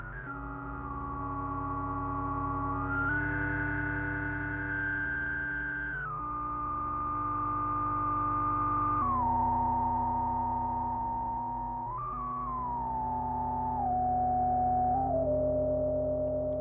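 Moog Subharmonicon synthesizer holding sustained, dissonant ambient drone harmonies that step between pitches every few seconds, smooth and steady with no voices.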